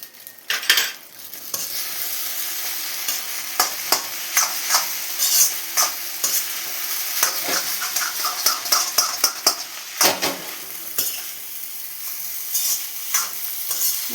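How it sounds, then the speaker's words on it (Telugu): Egg noodles being stirred and tossed with chilli powder in a pan, a steady sizzle broken by repeated sharp scrapes and clinks of a spoon against the metal. "అంతా కొంచెం మంచిగా మిక్స్ చేస్తున్నాను"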